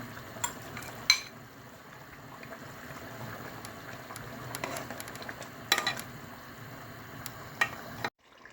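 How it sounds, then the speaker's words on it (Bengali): Quiet cooking sounds in a pan as fried potatoes are added to a chicken curry: faint sizzling and stirring with a few sharp clinks of utensils, then sudden silence at the end. "এখন আলুটা দিয়ে দিচ্ছি, ভাজা আলুটা।"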